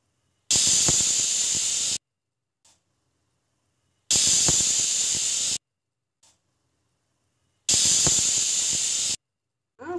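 Loud, sharp bursts of hissing steam come in three long blasts with silent pauses between, a pressure cooker whistling while cooking potato and pea kurma.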